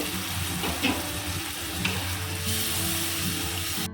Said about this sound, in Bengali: মশলাটা আর একটু কষাবো